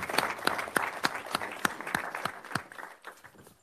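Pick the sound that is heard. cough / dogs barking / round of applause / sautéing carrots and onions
round of applause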